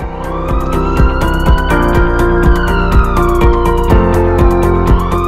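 A loud ambulance siren wails with rising and falling tones over a steady rhythmic pulse, close and continuous throughout.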